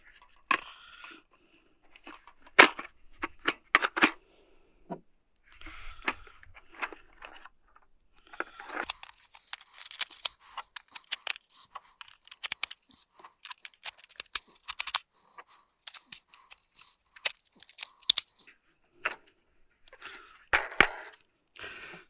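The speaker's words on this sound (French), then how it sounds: "Et vous prenez vos balles de 12 et vous pouvez les rentrer ici." 12-gauge shotgun shells are pushed one by one into a spring-loaded AMMOPAL holder, giving irregular close plastic clicks and snaps. Fumbling, scraping handling noises fall between them.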